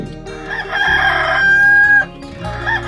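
A rooster crows in one long, loud, close cock-a-doodle-doo that holds and then cuts off, with a short clucking start afterward.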